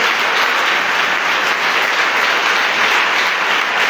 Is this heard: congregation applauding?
yes